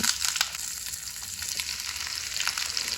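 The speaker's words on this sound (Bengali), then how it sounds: "কালো জিরেটা ভাজা হয়ে গেছে এখন কেটে রাখা ফুলকপিগুলো আমি দিয়ে দেব" Cut cauliflower frying in hot mustard oil with nigella seeds, a continuous close sizzle with light crackles and stirring scrapes, no talk.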